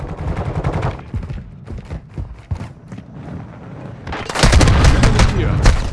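Gunfire in Warzone 2.0 combat: bursts of rapid automatic shots at the start, scattered single cracks in the middle, then a dense, loud volley near the end, with shouted voices in between.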